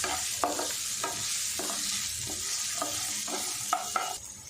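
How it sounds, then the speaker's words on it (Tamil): Potato pieces fry over a medium flame in a pan with a steady bright sizzle, while a utensil scrapes and stirs them in regular strokes, close up and without talk. "மீடியம் ஃப்ளேமில் ஒரு அஞ்சு நிமிஷம் நம்ம இதை நல்லா ஃப்ரை பண்ணிக்குவோம்"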